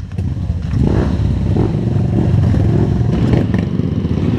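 A trail motorcycle revs and accelerates over rough ground strewn with ditches, rocks and logs, its engine droning loud and steady throughout with scattered clatter and scraping from the terrain.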